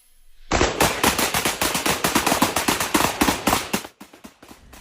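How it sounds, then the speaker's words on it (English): Rapid celebratory gunfire on New Year's Eve, a long string of loud, sharp shots fired in quick succession and at a steady rhythm, close by with no talk, then trailing off into a few scattered final bursts. "They say it was celebratory gunfire, and it's a dangerous New Year's Eve tradition they say needs to end."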